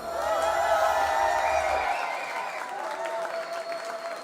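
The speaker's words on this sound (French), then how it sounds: "Vous pouvez déjà l'applaudir." Audience applause at a festival awards ceremony, a steady wash of clapping from a crowd that holds strong throughout and thins slightly toward the end, with some overlapping tonal sound in the hall.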